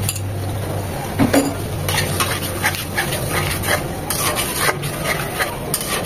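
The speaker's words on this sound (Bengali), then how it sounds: "সব এখন একত্রে খুব সুন্দর করে ভালোভাবে কষিয়ে নিতে হবে।" Ground spices and an almond-and-yogurt paste are stirred and fried together in a pot for chicken roast, with steady scraping spoon strokes against the metal and a faint sizzle, no talking.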